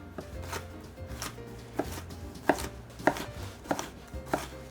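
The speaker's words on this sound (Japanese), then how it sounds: "卵焼きに入る場合は、ゴロッとしてるとすごく食べにくいので薄めに切っていきます" A knife slices thinly through an ingredient for a Japanese rolled omelette (atsuyaki tamago) on a cutting board, giving a steady series of crisp, close chopping taps with no talk.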